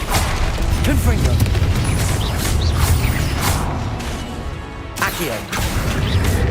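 A Confringo spell goes off in Hogwarts Legacy: booming explosion and crashing impacts over busy game effects and music, with a voice shouting during the action.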